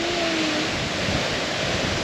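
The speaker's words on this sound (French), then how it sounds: "c'est une grande cascade quand même" Steady, dense roar of a large waterfall, continuous and fairly loud, filling the whole stretch as a broad wash of falling water with no pauses.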